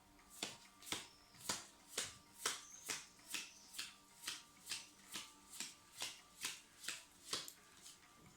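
Tarot cards are shuffled in a steady, even rhythm, about sixteen crisp riffling slaps in a row, close and fairly quiet with no talking.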